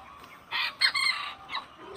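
Bantam chickens in cages on a poultry farm give a nearby burst of crowing and clucking. It comes in short, repeated calls over about a second, followed by a brief further squawk, with no talking.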